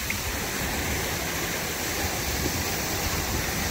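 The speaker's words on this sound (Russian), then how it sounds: "Фонтан." Hotel pool fountain at a Dominican resort, Barcelo Bavaro Palace, with water splashing steadily in a constant, close, broadband rush that holds unchanged throughout.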